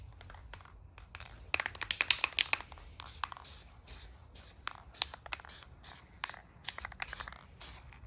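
Short bursts of an aerosol can spraying SEM upholstery paint onto plastic car interior trim, a close hiss in repeated pulses with brief pauses between passes.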